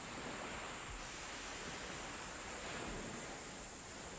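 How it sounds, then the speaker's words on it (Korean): Steady broadband wash of sea waves breaking on an island shore at dawn, continuous surf with gentle swells and no voices, moderately faint and even throughout. "바닷소리와 함께 새벽이 온다."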